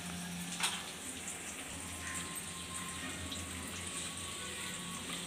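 Ground spices are worked into a little water to make a paste for a sweet-shop-style aloo paneer kabuli chana curry, giving a steady, soft, wet swishing that runs the whole time without talk.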